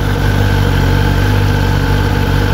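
A Kawasaki ZX-10R sport motorcycle idles close by, giving a loud, steady, low engine rumble with a constant hum and no revving.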